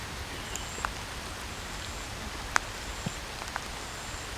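Light rain falls in North of Chestnut Nature Reserve in Singapore, a steady soft hiss with scattered sharp drips landing on nearby surfaces.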